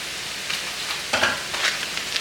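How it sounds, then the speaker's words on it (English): A pot of water boiling on a stove for spaghetti in a home kitchen, a constant bubbling hiss with a few brief clinks and stirring scrapes, close and alone. "The pot is boiling."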